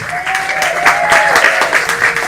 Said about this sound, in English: Round of applause for all the comics that came out tonight